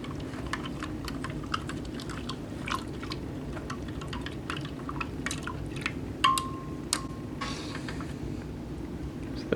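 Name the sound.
stirring rehydrated Indonesian T2-PJ freeze-dried ration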